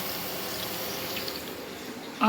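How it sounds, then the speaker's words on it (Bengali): Chana dal is rinsed in water with a steady close swishing and trickling wash, fairly soft, ending with a brief louder splash. "আর এদিকে ছোলার ডাল এই যে ধুয়ে নিছি সুন্দর করে।"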